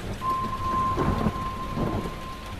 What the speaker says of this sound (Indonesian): ketika aku selesai mandi, hujan pun turun